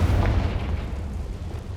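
A Confringo fire spell goes off in Hogwarts Legacy as a short, heavy boom with a deep low rumble that quickly fades into a dull tail.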